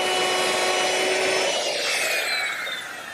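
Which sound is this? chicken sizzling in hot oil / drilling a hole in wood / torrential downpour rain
drilling a hole in wood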